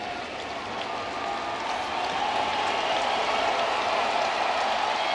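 Steady broadband crowd noise fills a baseball stadium during an at-bat, a continuous roar of cheering and clapping at a Los Angeles Angels versus Detroit Tigers game, holding level and swelling slightly toward the end.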